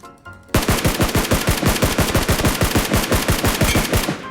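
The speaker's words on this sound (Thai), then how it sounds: "พี่ยิงฟรีแต่ยิงต้องเอาชัวร์พี่มี 30 นัด" Rapid automatic gunfire from a rifle in the mobile battle royale game PUBG Mobile, a loud sustained burst of evenly spaced shots that starts sharply and runs for about four seconds with no talking.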